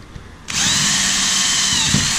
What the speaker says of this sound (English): drill out the rest of the rivet.